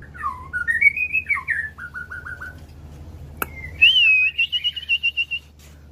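A songbird sings clear, varied whistled phrases up close, a rising warble followed by a run of quick repeated notes, then a brighter trilling passage.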